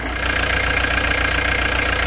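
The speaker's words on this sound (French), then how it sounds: "On entend bien le bruit de la boîte. Ça tourne pas rond du tout." Worn gearbox running rough on a vehicle, giving a loud, close, steady mechanical drone with a fast regular knocking pulse throughout and no voices.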